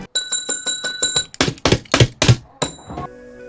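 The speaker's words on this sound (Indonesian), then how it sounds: "memukul keras bel pemanggil" A reception call bell in a hotel lobby is struck hard several times in quick succession, bright sustained tones with a metallic ding, mixed with a few dull thuds.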